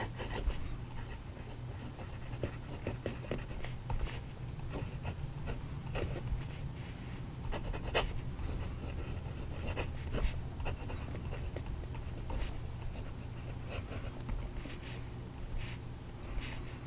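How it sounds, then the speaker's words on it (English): A Picasso 916 fountain pen nib scratches across paper in soft, close strokes, faint intermittent scratching and taps over a quiet room background. "So the best trait of this pen is the nib. It writes great."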